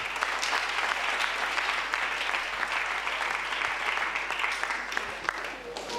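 A church prayer-meeting congregation applauds and cheers for an apostle being invited up, with continuous dense clapping and a few sharper claps standing out.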